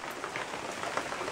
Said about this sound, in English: It was off and on rain.